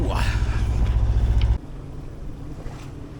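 Steady rush of wind and water against a sailboat under sail with engine off, charging down the Solent close to the wind at about 8 knots, loud and close, with a sudden drop in level halfway through as the noise eases.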